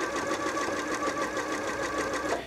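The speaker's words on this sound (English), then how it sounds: "This is a great mending stitch." A Janome 3160 sewing machine runs steadily stitching a mending stitch, a close, continuous rapid whirring and clatter that stops abruptly at the end.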